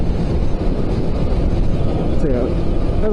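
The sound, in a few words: motorcycle riding on Gold Coast Highway, M1 motorway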